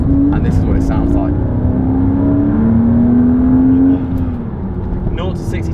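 A Porsche Boxster S 550 Spyder 50th Anniversary Edition, a 986 with Tiptronic gearbox, revs up with a rising engine note, holds it, then eases off, heard up close and loud.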